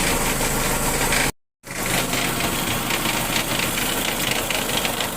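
A running Dodge Neon with a faulty transmission that causes stalling, heard up close as a loud steady mechanical whir and hiss with a rough knocking texture, cut by a brief dropout.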